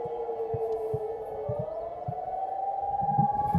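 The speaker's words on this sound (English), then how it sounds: "That's a air raid siren." A long, wavering air raid siren drones in the distance in wartime Ukraine, slowly rising in pitch, while faint footsteps or knocks thud nearby.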